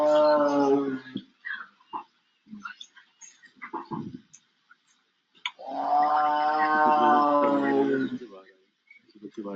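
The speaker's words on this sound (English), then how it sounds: "when a tigress is looking for a mate, she doesn't growl or roar, she moans" A tigress moans while seeking a mate, giving long, loud, harmonic calls. One sustained moan opens the sound and a second, longer one comes later, with softer grunts and breaths between them.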